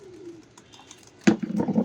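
A pigeon gives a soft, low coo close by, followed by a louder burst of throaty cooing near the end.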